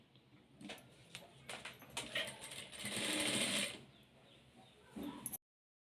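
A sewing machine stitching the sleeve of a prince cut blouse, faint starts and stops of needle tapping building into a sustained whirring run of stitching that ends abruptly, close and quiet with no talk.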